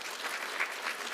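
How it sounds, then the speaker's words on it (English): Audience applause at an engineering conference session, a brief burst of steady, dense clapping heard alone at moderate volume. "Can you give me again another round of applause?"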